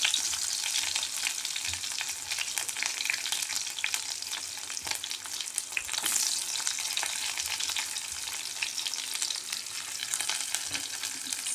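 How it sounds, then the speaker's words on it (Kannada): Onion hits hot oil with mustard seeds and cumin in a pan for curd curry, frying with a steady, dense hiss and crackle that continues throughout, close and fairly quiet, with occasional stirring scrapes. "ಈರುಳ್ಳಿ ಹಾಕ್ತಾ ಇದ್ದೇನೆ."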